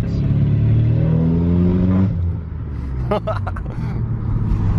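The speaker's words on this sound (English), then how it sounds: "We have had to travel 40 minutes with the constant drone of this car." A car's constant engine drone fills the cabin at a steady loud level while driving, easing briefly midway before resuming, with a short burst of voices partway through.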